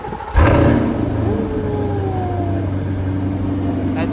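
A 2025 Corvette C8 sports car cold-starts with a sharp crank burst, then its engine flares loudly and settles into a high, steady idle drone, close and alone without talk.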